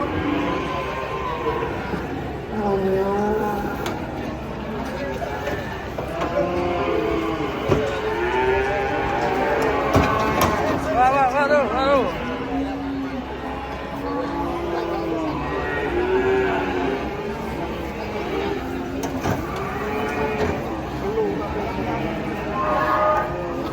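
Cattle unload from a truck, giving repeated loud moos over a continuous din of hooves, clanking and people talking close by.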